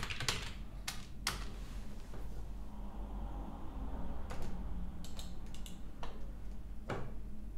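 Computer keyboard typing in a quiet room, scattered clusters of keystrokes coming in short bursts with pauses between them, close and clear over a low steady background hum.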